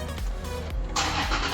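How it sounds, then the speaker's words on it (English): Toyota 5th Gen 4Runner engine cranking and catching, a short starter whir followed by a steady mid-pitched idle, close and loud. "So now let's start the car and see what it looks like."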